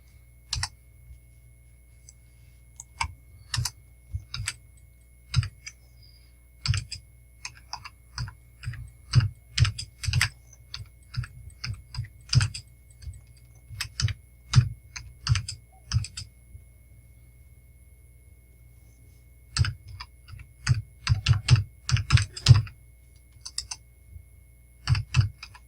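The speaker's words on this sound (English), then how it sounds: "I am pitiful at typing, of course." Someone types on a computer keyboard in irregular bursts of sharp, close keystrokes with pauses between flurries, in an otherwise quiet room.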